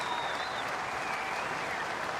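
Home crowd at a Kooyong tennis exhibition semifinal applauding steadily after a match-winning point, dense even clapping from a large audience with a faint whistle and cheers mixed in, continuous throughout.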